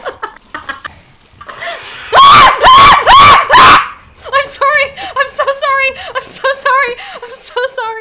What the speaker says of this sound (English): Dude, that was a double whammy scream.